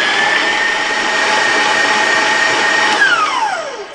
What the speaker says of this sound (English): now I've turned my mixer down just a little bit so I can add my peppermint extract